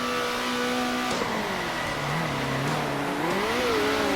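A race car engine in the video game Circuit Superstars revs and drops, then climbs again in a loud, continuous buzzing drone with shifting pitch, without talk.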